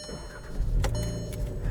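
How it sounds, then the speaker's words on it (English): A 2021 Volkswagen GTI S with a manual gearbox is started with a turn key. A brief mechanical burst leads into a low, steady engine rumble close by. "To start the car, as before, foot on the clutch, foot on the brake."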